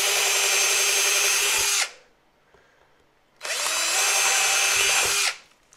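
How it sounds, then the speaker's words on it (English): A power drill whines at high speed in two loud bursts, separated by a short pause, while it bores holes completely through a wooden board for mounting deer antlers. "Then I'm going to take my drill and I'm going to drill two holes completely through the board"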